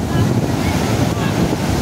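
Ocean waves crash on Juhu beach in a loud, continuous roar of surf, heavy wind buffeting the microphone throughout with no clear breaks.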